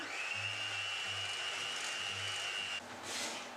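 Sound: electric mixer beating dough

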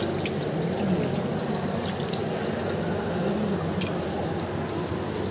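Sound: water running from tap while washing hands

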